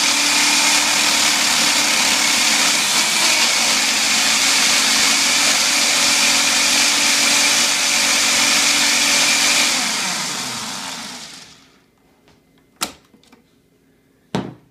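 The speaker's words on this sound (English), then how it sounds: "Simply turn the Ninja on, hit the pulse button, single spin." A Ninja blender pulses a breakfast smoothie of blueberries, kale, protein powder, kefir and flaxseed, giving a steady loud whir for about ten seconds that winds down into quiet, followed by a couple of sharp clicks.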